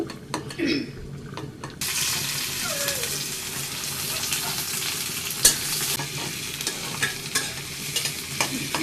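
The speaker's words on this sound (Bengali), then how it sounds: "ভাজার জন্য একটু শুকনো মরিচটা আমি একটু ভেজে একটু ভেজে" Dried red chilies frying in a pan with oil, a bright continuous sizzle that swells after a quieter start, with occasional utensil scrapes and a sharp clink, close and without speech.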